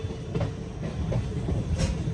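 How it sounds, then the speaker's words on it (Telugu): A train rumbles into the platform at Narasaraopet railway station, a low steady rolling noise with soft rhythmic wheel clacks, moderately close and without talk. "మన ట్రైన్ వచ్చి ప్లాట్ఫామ్ నెంబర్ 2కి అయితే వచ్చింది"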